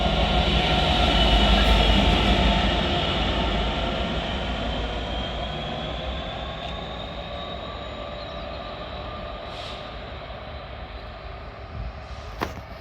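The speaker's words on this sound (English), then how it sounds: "Train now approaching platform 1." A train approaching platform 1 at Hitchin station on the East Coast Main Line rumbles and hisses close by, loud at first and then slowly easing, with a faint high wheel tone drifting across.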